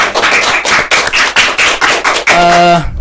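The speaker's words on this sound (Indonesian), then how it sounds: "tepuk tangan untuk Bapak Rizky Ramadhani." Applause for a newly appointed head of department at a school multimedia podcast, loud close clapping in quick uneven bursts, ending with a short tonal sound as it fades.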